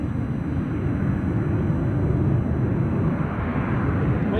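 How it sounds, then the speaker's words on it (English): An ATR 72-600 turboprop on the Aberdeen flight to Manchester drones steadily at Aberdeen Airport, a continuous low rumbling roar heard at a distance; no talking. "The plane you can hear strumming away in the background is the Aberdeen flight to Manchester, an ATR 72-600"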